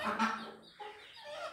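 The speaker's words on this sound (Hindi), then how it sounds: "तो अलग अलग नस्ल की मुर्गियां हैं इसमें।" Hens of several different breeds cluck softly in a village setting, with two or three short, fairly faint clucking calls separated by brief pauses.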